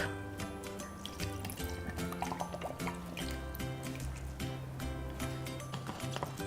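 Milk poured into a blender for a milkshake, a soft continuous liquid trickle and filling sound close by, set against a faint background tone, with no talk.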